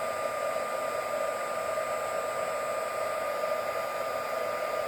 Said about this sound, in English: I'm just going to heat emboss this now